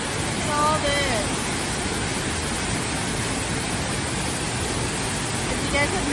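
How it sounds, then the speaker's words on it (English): Small waterfalls splash in a steady broadband rush that fills the scene evenly, loud and unbroken, with a few brief bird chirps on top. "There's some small waterfalls over here too."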